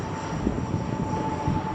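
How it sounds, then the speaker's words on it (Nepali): A passenger airplane descending to land at Biratnagar makes a steady, fairly close engine drone in the open air. "आवाजै कत्रो है प्लेनको"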